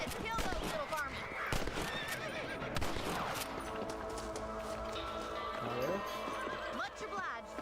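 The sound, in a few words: horses neighing and clip-clopping in Red Dead Redemption video game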